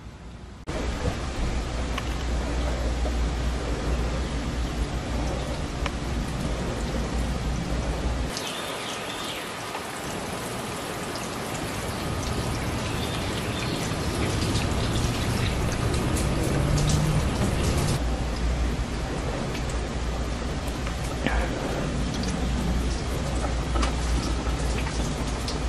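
Water sprayed onto a car windshield treated with Nanoslic hydrophobic coating, a steady loud hiss like heavy rain spattering on glass, continuous throughout with a brief lull and rougher patches.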